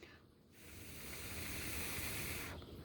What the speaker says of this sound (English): I'm going to blow on this sail and see if I can get the boat to move.